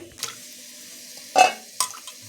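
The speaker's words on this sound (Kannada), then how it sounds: "ಇಷ್ಟು ಸಾಕು ತರಕಾರಿ ಮುಳುಗುವಷ್ಟು ನೀರು ಬಿದ್ದರೆ ಸಾಕು" Water splashes over vegetables, chickpeas and elephant foot yam, in a cooking pot, heard as three short, close bursts of pouring with quiet gaps between and no voices.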